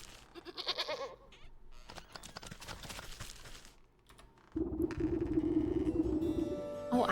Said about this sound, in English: He's just a little goat.